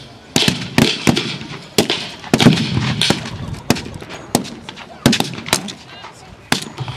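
Rapid sharp gunfire cracks from a Boer War battle reenactment at Kelmarsh, loud irregular volleys and single shots ringing out across an open field, with murmuring of a crowd beneath.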